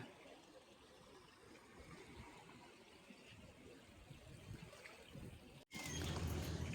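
Continuous rushing flow of water, a steady broad wash like a river current, with a brief cut near the end before it resumes louder.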